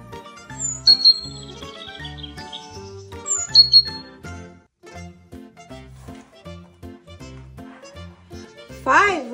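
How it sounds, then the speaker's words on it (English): Chirping bird sounds from a children's pop-up picture book of four noisy birds, bright high tweets and tinkling tones in short bursts over a light musical backing, with a voice reading aloud. "Four noisy birds live here. Tweet, tweet!"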